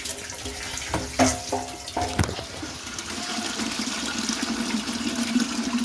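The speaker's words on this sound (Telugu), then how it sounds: "నీళ్ళు చూసారా ఎలాగొచ్చేస్తుందిగా మంచినీళ్ళు పట్టండి" Water runs steadily from a village tap as drinking water is collected, a continuous close splashing flow after a few brief clanks and knocks at the start.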